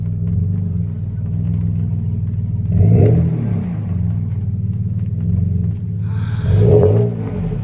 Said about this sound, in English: He's spinning his wheels, he ain't getting nowhere.